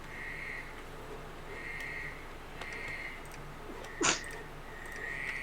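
A single brief sneeze cuts through a steady background of repeating croaks or chirps at moderate, somewhat distant level.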